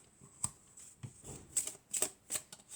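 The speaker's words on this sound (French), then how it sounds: "On va prendre cette carte, celle-là," Tarot cards are handled and drawn, giving quiet close papery flicks and soft slaps in an irregular run of small bursts, with no voices.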